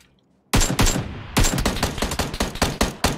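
Rapid automatic gunfire from the battle royale video game PUBG Lite, loud and close, beginning abruptly after a brief quiet and continuing as dense bursts of shots for about three seconds.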